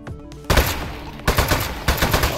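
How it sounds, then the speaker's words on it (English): Loud automatic gunfire from the Aperture Desk Job video game as appliances are shot, coming in three sustained bursts with short gaps between them. "It is okay to shoot these appliances."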